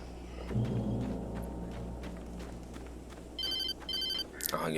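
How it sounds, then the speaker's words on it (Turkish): A telephone rings in the video game Alan Wake, two bright electronic bursts of ringing over low ambient game rumble, fairly quiet and set back in the mix. "Aha gene telefon çaldı."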